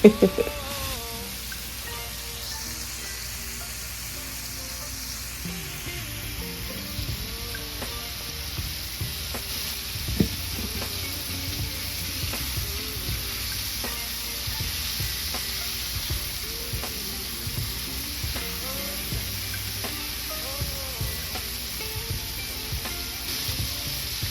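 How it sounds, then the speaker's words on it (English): Chicken frying in hot oil in a home kitchen, giving a steady, dense sizzle with small pops and crackles throughout, continuous and moderately loud. "I'm going to give y'all some good old chicken frying ASMR"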